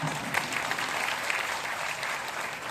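An audience at a Hindi poetry gathering (kavi sammelan) at Hindu College, Delhi University, claps loudly and continuously to welcome the state governor; a dense wash of many hands without pause.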